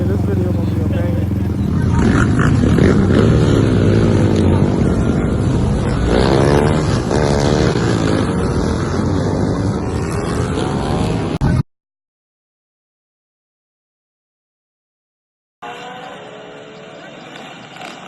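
Several dirt bikes ride through Baton Rouge pulling wheelies, engines revving loudly and close with rising and falling pitch, voices mixed in, before a sudden cut to silence and a brief return of engine noise.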